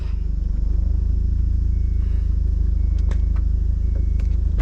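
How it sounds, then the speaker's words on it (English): A Mazda Miata idles low and steady while being backed slowly into a garage, its engine rumble constant throughout with a few faint clicks and shuffles nearby. "I'm gonna back it into the garage, Michael."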